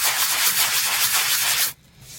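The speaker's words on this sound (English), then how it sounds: "if you wrap your sandpaper around the sanding block to sand it" Steady, raspy scraping of sandpaper wrapped around a sanding block across cabinet wood in continuous strokes, close and loud, ending abruptly into quiet near the end.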